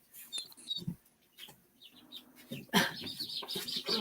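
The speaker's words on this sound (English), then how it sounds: "I got some baby ducks" High, thin peeping and chirping from baby ducks, scattered and then busier toward the end, with faint murmuring voices in the background.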